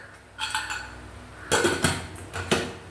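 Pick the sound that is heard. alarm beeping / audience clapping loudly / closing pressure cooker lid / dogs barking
closing pressure cooker lid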